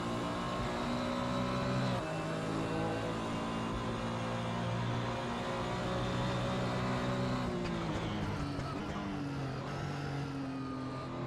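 Porsche 911 GT1 race car in the Assetto Corsa video game lapping Silverstone, a loud sustained engine drone holding high revs, with brief dips and shifts in pitch as it changes gear, and no talking.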